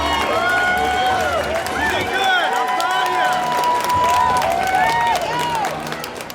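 A crowd cheers and claps for a 68-year-old rookie at an evening sporting event, a dense, steady roar of many voices with applause and whistles, loud and sustained before easing slightly at the end, with voices shouting within it.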